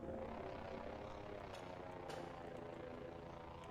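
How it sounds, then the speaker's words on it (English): A drone flies past in the video game Voices of the Void, its engine making a loud, steady mechanical drone that fills the whole stretch without letting up. "that was a drone that was just flying by"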